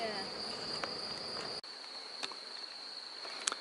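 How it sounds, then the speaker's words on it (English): Bees from a captured swarm buzz around near a sheet outdoors, a steady high insect drone with faint nearby hum, no talking. "still some bees flying over there by the sheet."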